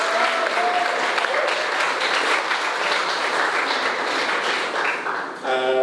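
An audience at a Berlin museum gallery event applauds a volunteer, giving steady, even clapping that carries on for several seconds before tapering off, with a voice entering at the very end.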